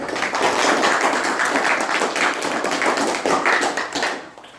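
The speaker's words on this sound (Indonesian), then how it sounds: "Oke, tepuk tangan buat" A group in a training session applauds, with dense, close, energetic hand clapping that holds steady for about four seconds and then fades out quickly.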